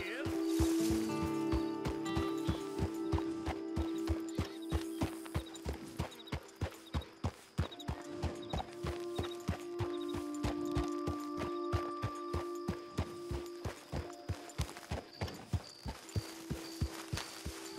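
Horse hooves clip-clop at a steady walking pace in Red Dead Redemption 2, an even run of close, crisp hoofbeats that continues under game music and a voice speaking.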